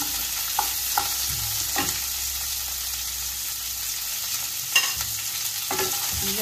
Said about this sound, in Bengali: এটা ফুলকপিটা ভাজতে ভাজতে এর সাথে আমি এই কাজু বাদামটাও ভালো, যেহেতু বাদাম জাতীয় জিনিস পুড়ে যাবে না, তাই এটাকেও ভাজতে দিন।